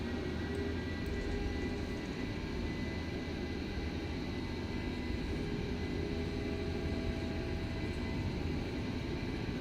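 Airliner engines roaring during the takeoff roll in Microsoft Flight Simulator 2024, a steady dense broadband rumble that holds constant and loud throughout with no talk over it.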